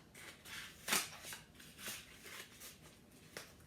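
Scissors snip through a cardboard egg carton, separating the cups, with a handful of quiet, close cuts and soft crinkles spread irregularly across a few seconds.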